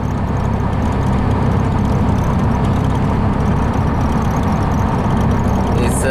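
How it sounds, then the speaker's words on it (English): A VW Baja Bug with a 1776 single-port engine out on a test drive gives a loud, steady engine drone and road rumble that holds without a break from start to finish. "he just got this Baja put together, and we're kind of taking it out for a little bit longer test drive"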